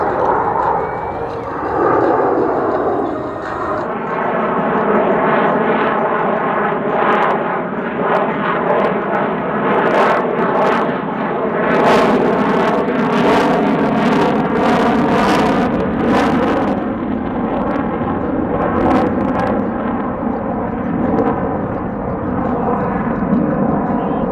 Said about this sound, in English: Ladies and gentlemen, from the right, the Raptor slow speed pass.